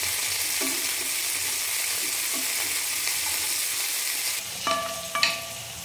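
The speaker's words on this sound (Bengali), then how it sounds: "বড়ি ভাজতে বেশি সময় লাগে না, বেশি গরম তেলে দিলেই এই যে লাল হয়ে গেছে।" Lentil dumplings (bori) fry in very hot oil in a home kitchen, a loud steady sizzle up close. A few bright metallic clinks of a utensil against the pan sound near the end.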